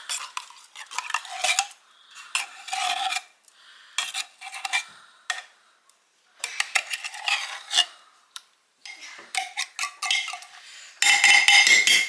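Metal spoon scraping cream of mushroom soup out of a can, a series of short clinking, scraping bursts with brief pauses, ending in a denser run of scrapes; no talking.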